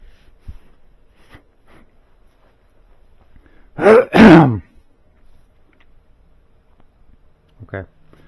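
A person blows their nose in a workshop during a Model T engine teardown: one short double honk, loud and close, in an otherwise quiet space with faint background noises.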